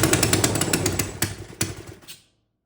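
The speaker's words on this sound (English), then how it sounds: "Now, the engine actually ran pretty good." A homemade gas engine runs loud and close with a rapid, ragged firing chatter and a couple of sharp bangs, then abruptly cuts out and leaves silence.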